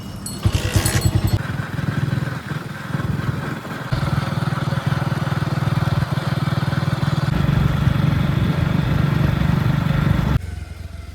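A motorbike ridden along a village track toward a lake, a steady close engine drone with a brief rougher burst at the start and a cutoff near the end.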